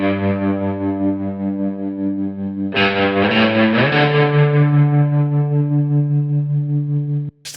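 Driven electric guitar with a Western vibe, sitting in a full band mix and panned partly left. Sustained overdriven chords ring out, a brighter strummed section enters near the middle, and the sound cuts off abruptly at the end.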